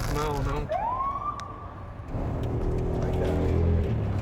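A police siren on an escort through Fort Smith streets rises into a wail, holds briefly, then drops away. It sounds close, over a steady car-interior rumble.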